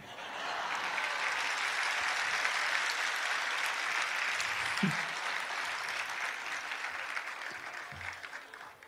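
Sustained applause from an audience at a Jain sermon in Jabalpur, steady and dense clapping for about eight seconds that slowly thins toward the end, with a few low thumps.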